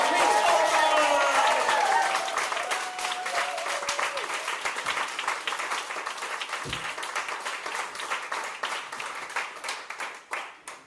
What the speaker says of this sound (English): can we get some raucous applause going?